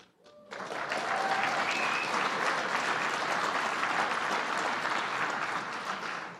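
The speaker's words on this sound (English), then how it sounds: "thank you, Mayor Bowser, for leading the clap" An audience at a US Conference of Mayors midwinter gathering with the President breaks into sustained, dense applause that swells quickly and holds steady for several seconds, loud and close.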